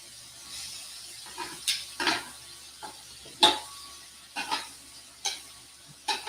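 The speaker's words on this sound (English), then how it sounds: "The vegetables are getting a beautiful sear on them." Vegetables sear in a hot pan for pork chops, a soft continuous sizzle broken by a series of sharp scraping strokes and clinks from a utensil at irregular intervals.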